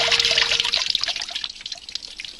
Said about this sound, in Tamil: ஏன்பா இப்படி தண்ணியை கீழே கொட்டி வீட்டையே நாசம் பண்றீங்க?